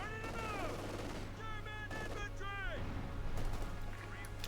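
Jaeger infantry rifles crack in a Company of Heroes 2 battle, OKW against USF, with sporadic overlapping shots beneath continuous energetic commentary and a steady low game hum.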